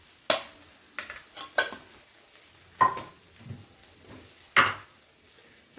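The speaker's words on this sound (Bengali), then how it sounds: "এবারে সমস্ত মশলাগুলোকে টমেটোর সাথে ভালো করে কষিয়ে নেব" Spices and tomato sauté in a pan for a vegetarian eggplant dish, with a handful of sharp, separate spatula scrapes and knocks over a soft sizzle, close and without talk.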